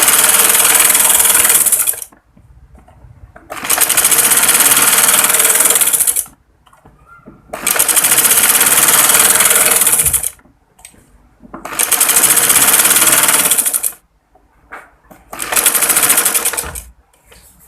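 Embroidery stitching on a kurti neckline with a normal domestic sewing machine: five loud, steady whirring runs of a few seconds each, separated by short quiet pauses, with no talking.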